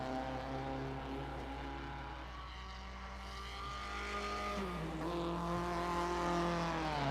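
A 1958 Formula One race car in a racing game at the Moroccan Grand Prix, its engine droning with a steady harmonic whine that dips and then climbs as it nears and revs past.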